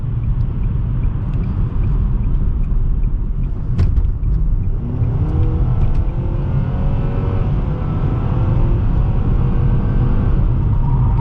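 A 2020 Nissan Sentra SR with a CVT drives at speed, giving a loud, continuous engine rumble and road roar from inside the cabin. The pitch rises smoothly partway through, with a brief knock near the start.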